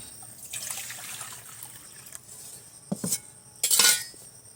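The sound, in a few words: pot of warm water being taken off the stove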